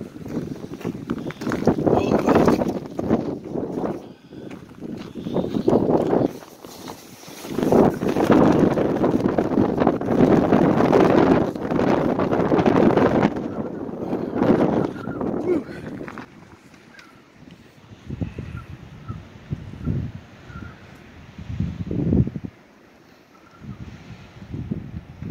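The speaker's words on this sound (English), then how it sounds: "as you can see, it's very windy." Strong gusty wind in Quartzsite, Arizona, buffeting the microphone in heavy roaring bursts that come and go, loudest in the first two thirds, with a voice talking at points.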